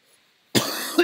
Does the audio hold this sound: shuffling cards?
no